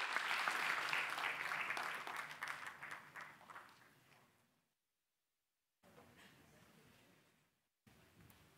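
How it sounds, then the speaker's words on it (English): A conference audience at a business and academia panel gives a round of applause for the participants. The clapping is dense at first and fades out, followed by a silent gap and then faint rustling room noise. "please join me and applause our participants for their intervention"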